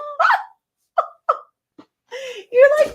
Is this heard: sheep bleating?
no